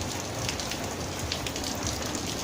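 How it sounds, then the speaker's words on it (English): Steady rain patters on a surface, a dense, even hiss of drops close by, with no voices. "Still raining a little bit, but not like it was."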